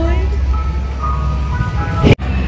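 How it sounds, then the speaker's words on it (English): An ice cream truck passes by a park, its tinny jingle faint and continuous over a steady low rumble of traffic, with a brief sharp knock and dropout near the end. "I hear another ice cream truck."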